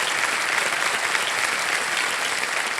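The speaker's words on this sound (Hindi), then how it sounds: "तालियां बच्चे उनके लिए।" A studio audience on the Kaun Banega Crorepati quiz show set applauds a contestant, loud, dense and continuous clapping from many people filling the room without a break.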